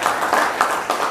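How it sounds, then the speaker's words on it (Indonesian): An audience at a legal outreach session applauds the LBBH group in a short burst of close, steady clapping with a few rhythmic swells. "Tepuk tangan untuk LBBH."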